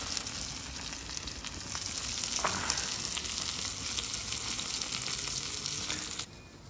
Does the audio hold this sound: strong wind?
no